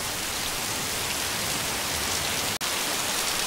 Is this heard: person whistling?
no